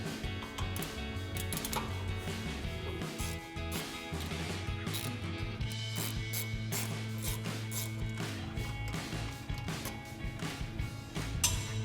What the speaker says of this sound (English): we're gonna take our caliper bolts off. It's 12mm socket